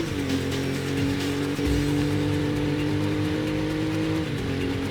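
Race car engine in a wet Grand Touring race at Landstrasse in the PlayStation game NFS: Road Challenge, a loud continuous harmonic drone holding steady with slight pitch shifts, constant and close throughout.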